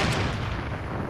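Gunfire in a battle-royale style shooter game, a short burst of heavy booming shots with low rumble, loud and close, filling the whole moment without talk.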